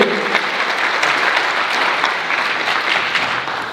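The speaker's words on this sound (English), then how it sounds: "Please give them a round of applause, please, for being here." An audience in Sacramento gives a loud round of applause to welcome guests at an opera-related interview event, a dense, continuous clapping that fades slightly at the end, with no voices over it.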